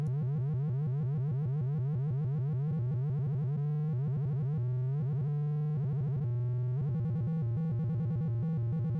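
Continuous electronic tones from combined sine waves layered together, pulsing and shifting in pitch with a beeping, warbling rhythm, loud and steady throughout.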